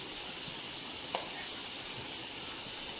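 Roasted spice powders going into sautéed onions in a pan for beef curry give a soft, steady hiss and sizzle, with one brief clink partway through.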